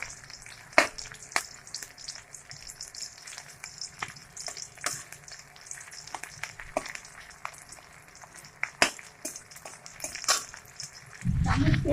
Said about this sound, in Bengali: দেখো, দেখতেই পাচ্ছ তোমরা, সুন্দর একদম ভাজা হচ্ছে